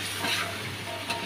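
Pomfret fish chili filling sizzling in a hot pan while being stirred, a steady close frying hiss with soft scraping strokes, brief and alone with no voices.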